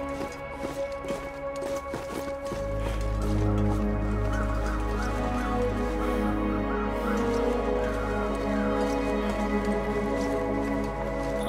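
Birds crow in Ash Canyon with repeated harsh calls over a low, steady rumble, accompanied by footsteps and scattered knocking.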